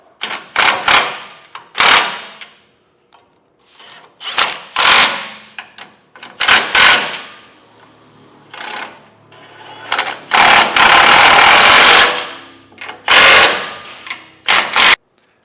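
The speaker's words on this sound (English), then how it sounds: "Now we're going to take a 19mm socket and get these snugged up." Loud bursts of an impact wrench or ratchet driving a 19mm socket onto the flange nuts of a Curt front-mount trailer hitch receiver on a 2018 Chevrolet Silverado, in repeated short rattling runs with pauses, one longer sustained burst.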